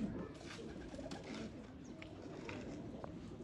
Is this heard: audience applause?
no